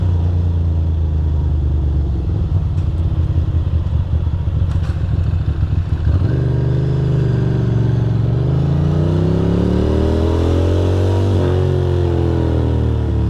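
A Ducati Monster 620 motorcycle ridden through wet New York City streets with its vertical cylinder cutting out, a loud, close, uneven engine rumble that revs and shifts pitch repeatedly, sounding alone without talk.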